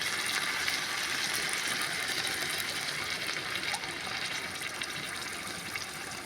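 Water being poured into an aluminium pot of chicken biryani, a continuous splashing, hissing pour at close range without any speech.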